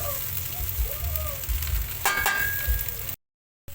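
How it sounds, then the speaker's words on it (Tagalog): Sautéed small crabs and ginger being added to a hot pan make a steady, loud sizzle and fry, with a brief burst of stirring noise midway before the sound cuts out near the end. "Isunod natin yung ginisa nating talangka."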